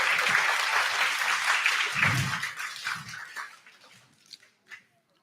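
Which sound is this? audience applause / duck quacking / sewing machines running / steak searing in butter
audience applause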